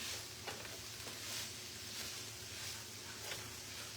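A seasoned meat mixture sizzles steadily in a hot pan while being stirred, with soft scraping strokes over continuous frying crackle, fairly close and quiet with no talking.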